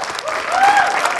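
Brief burst of clapping from a studio audience on an Indonesian television show, swelling briefly alongside a tonal voice-like sound.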